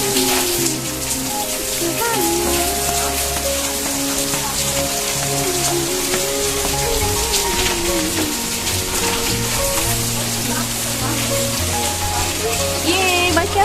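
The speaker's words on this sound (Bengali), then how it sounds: "বাইরে বৃষ্টি হচ্ছে" Rain falls outside in a steady, dense patter that lasts throughout. Faint tonal background sounds sit beneath it.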